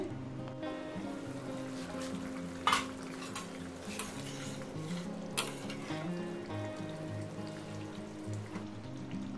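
Fish and potato curry simmering in a pot, a low, steady bubbling hiss throughout, broken by a few sharp clinks of a utensil against the metal pot.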